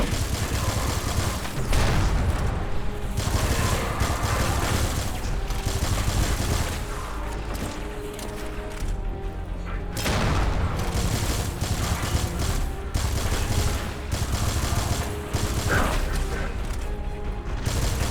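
Sustained gunfire and explosions from the shooter video game N.O.V.A. 3, dense rapid bursts of automatic weapon fire with heavy booms and crashes, loud and continuous throughout with game soundtrack underneath.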